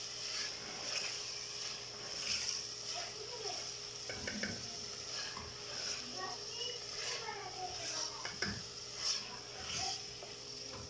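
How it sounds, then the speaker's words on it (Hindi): Mutton pieces frying with softened tomatoes in a pot for turnip mutton curry give a steady close sizzle with scraping and stirring clatter, and a voice talks over it. "मटन को भी हम बस 2 से 3 मिनट के लिए भुनेंगे ताकि इसका जो कलर चेंज हो जाए"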